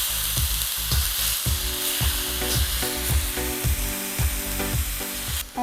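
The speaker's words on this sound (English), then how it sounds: "Stir it until it smells good." Tofu and bell peppers are stir-fried in a pan: a quiet continuous sizzle under regular, rhythmic scraping strokes, roughly one every half second, heard close with no speech.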